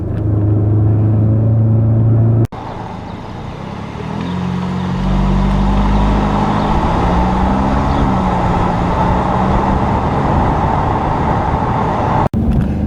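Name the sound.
2017 Audi S3 2-liter 4-cylinder turbo engine driving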